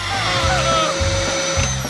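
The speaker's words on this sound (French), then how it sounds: "Ouais, un aspirateur!" A vacuum cleaner whines steadily close by, a continuous motor drone with a high-pitched tone that shifts slightly in pitch, while voices talk over it.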